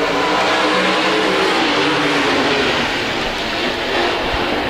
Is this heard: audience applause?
no